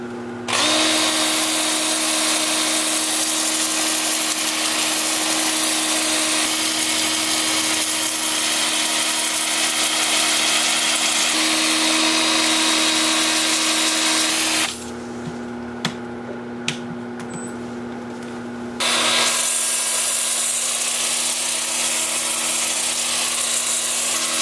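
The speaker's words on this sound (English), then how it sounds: "I'll be sanding with my 2-inch disc sander with the lathe spinning at about 350 RPM in reverse." A 2-inch disc sander works a wood turning spinning on a lathe at about 350 RPM in reverse, giving a steady, loud whirring grind that runs almost continuously, with a brief shift in tone partway through before the sanding resumes.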